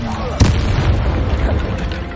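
A Bombarda explosion spell cast during Hogwarts Legacy gameplay, heard as one sharp, loud blast that lingers in a rumbling tail over continuous game sound.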